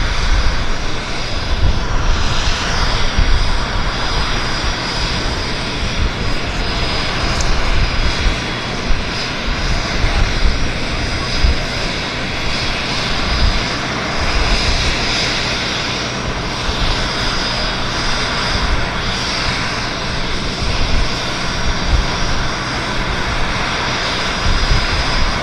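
Alaska SkyWest airliner at Vancouver Airport with its engines running, a steady loud whine and roar holding for the whole stretch while strong wind gusts in the background.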